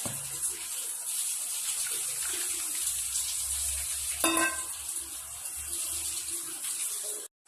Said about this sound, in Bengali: সেদ্ধ হয়ে গেছে, এবার এইটা আমরা জল বের করে নেব